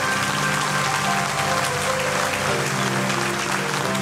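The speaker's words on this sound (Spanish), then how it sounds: "Démosle un aplauso fuerte a Dios." A church congregation claps loudly and steadily in a sustained round of applause offered to God during a Spanish-language service, with faint musical tones underneath and no speech.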